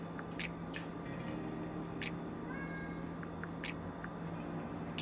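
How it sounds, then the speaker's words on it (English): A cat meows several times in short, sharp calls spaced a second or so apart, moderately close over a quiet indoor background. "Your cat's out the window."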